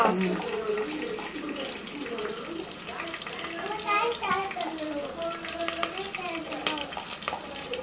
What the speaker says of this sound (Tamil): கை கழுவணும்.